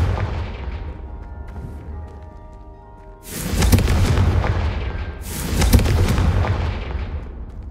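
Two heavy Confringo spell blasts erupt in Hogwarts Legacy, each a loud booming explosion with a long rumbling tail, the second following about two seconds after the first dies down, over a soft background tone.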